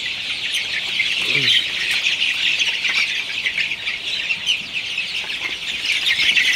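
Chickens and chicks in a poultry house, hybrid Sonali birds about 25 days old, crowded in the corners, give a dense, steady chorus of high chirping and clucking throughout, with faint squawks mixed in.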